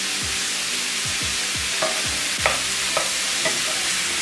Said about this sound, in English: I'm just gonna use my flat spoon and break up the ground beef and allow it to cook